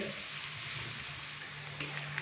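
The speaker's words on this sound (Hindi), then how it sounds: "प्याज को हम हल्का सा फ्राई करेंगे तकरीबन 3 से 4 मिनट के लिए" Finely chopped onions sizzle lightly in a hot pan, a steady, even frying hiss that runs throughout with no speech.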